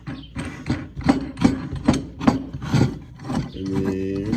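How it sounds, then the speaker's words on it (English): Hand threading a metal nut onto a mock-up bolt in a garage truck build, a close series of rhythmic scraping, ratcheting turns with a brief tonal squeak at the end. "you're gonna put the nut on"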